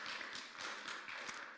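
A church congregation at a revival service applauds its worship team, a steady and fairly faint patter of many hands clapping without a break.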